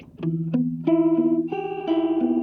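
A Chase Bliss Audio effects pedal with its LFO speed turned up, processing a short sequence of sustained synth-like notes that wobble with fast, warbling modulation, loud and alone.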